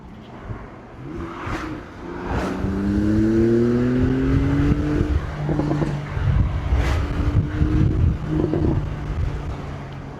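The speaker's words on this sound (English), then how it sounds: "I'm not sure if you can hear the pops and the bangs" A 2017 Porsche 911 Carrera 4 with PDK gearbox and turbocharged engine drones and revs through the gears, with scattered exhaust pops and crackles over the rising and falling note.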